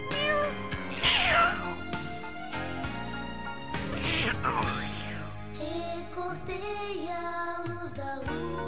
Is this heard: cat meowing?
yes